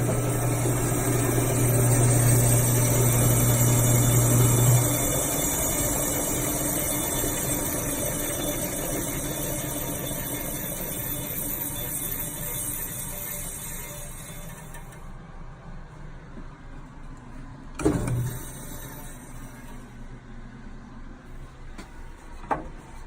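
Restored Craftsman band saw running steadily with a continuous motor hum and blade whir, loud at first, then settling into a quieter, even drone, with a couple of brief knocks near the end.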